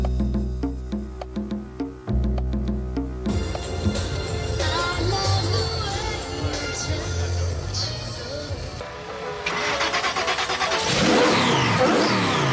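A Holden HQ one-tonner at a car show idles with a deep rumble, then revs repeatedly with rising and falling mid-pitched engine roars that grow louder and higher toward the end.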